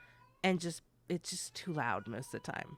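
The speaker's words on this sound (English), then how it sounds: "That's my cat." A pet cat meows a few times, mixed in under a person speaking close to the microphone indoors.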